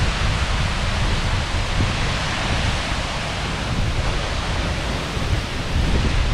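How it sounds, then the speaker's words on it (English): A waterfall roars in the rain near Vik, Iceland, a dense, loud, unbroken rush of falling water with wind buffeting the microphone throughout. "the waterfall is gonna make sure I get wet."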